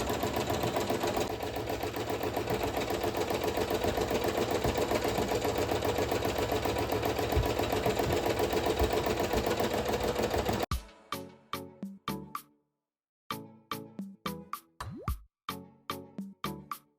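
An embroidery machine runs continuously while stitching a satin border on a plastic-sheeting patch, a close, dense mechanical whir, then breaks into a series of short, separate bursts of stitching with silent gaps, no voices present.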